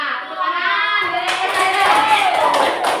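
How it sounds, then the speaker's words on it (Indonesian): Classroom clapping from a group of students, a broad busy patter of many hands filling the room, steady and fairly loud, with children's voices mixed in underneath. "Ya, tepuk tangan."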